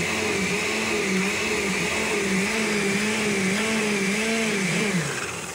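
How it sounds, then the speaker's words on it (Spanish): A kitchen blender grinds sauce ingredients with a steady whirring motor drone whose pitch wavers slightly, loud and close throughout, then dips toward the end. "Ya se comenzó a moler todo."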